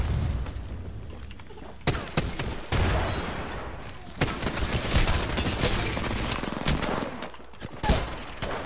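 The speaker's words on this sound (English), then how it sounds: "I just mag dumped one of them with the LMG point blank range" Bursts of LMG machine-gun fire in Apex Legends, loud rapid volleys that start and stop several times in close range, heavy and dense with little pause between shots.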